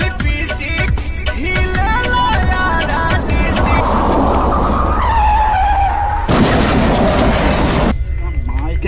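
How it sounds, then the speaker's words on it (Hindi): A car driven fast, with engine roar, tire skids and a rising whine over loud music, the vehicle noise dense and close throughout. "गुल्ली अपना सर हिलाता है और गाड़ी को और तेज भगाता है।"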